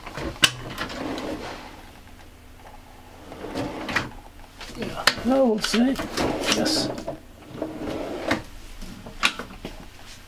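A large soft-closing cutlery drawer in the kitchen of a 2020 Hobby Optima Premium T 65 GE motorhome slides and settles with a muted thud, with people talking nearby.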